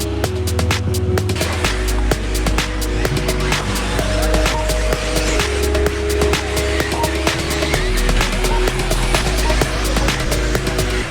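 Several electric RC off-road cars pull away at the start of a race final on a Slovenian dirt track, with a steady buzzing motor whine and crackling tire and gravel noise that carry on continuously.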